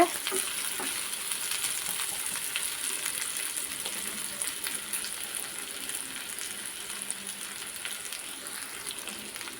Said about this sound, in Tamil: புளி சேர்த்து நல்லா வதக்கிக்கோங்க